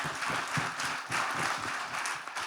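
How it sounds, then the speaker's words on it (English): An audience applauding a Kargil war veteran at a talk, a dense, steady wash of many hands clapping at moderate loudness, with no talk over it. "We must have a round of applause for him"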